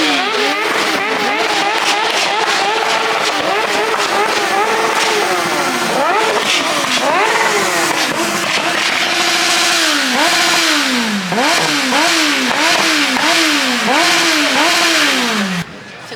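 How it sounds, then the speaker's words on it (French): Unfaired sport motorcycles revving at the 24H du Mans motorcycle race, loud and close, with repeated rising and falling engine sweeps overlapping one another throughout. "C'est des motos sportives, mais sans carénage, sans protection, sans rien."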